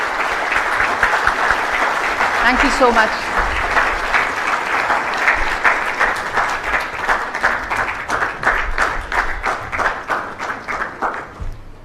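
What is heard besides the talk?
audience applause welcoming the Chief Minister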